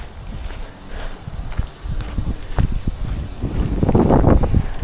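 Steady wind rumbles and buffets across the recording on a warm, low-humidity walk along the Montour Trail, with scattered low thumps and knocks, growing gustier toward the end.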